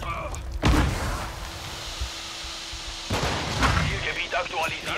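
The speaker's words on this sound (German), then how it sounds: "Kopfschuss, endlich!" Shots ring out in Call of Duty: Modern Warfare II multiplayer, a few sharp reports at irregular intervals with a sustained background tone and some voices under the action.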